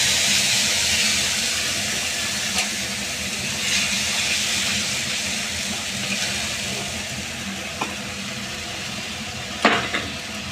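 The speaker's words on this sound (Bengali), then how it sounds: "যে মশলাটা আমি বেটে রেখেছি সেই মশলাটা আমি দিয়ে দিচ্ছি এই তেলের মধ্যে" Ground spice paste and black cumin hit hot oil in a pan, giving a loud, steady broadband sizzle with occasional stirring scrapes and pops, close by and without talk.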